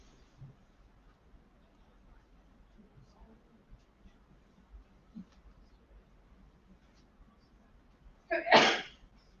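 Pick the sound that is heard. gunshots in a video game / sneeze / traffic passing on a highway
sneeze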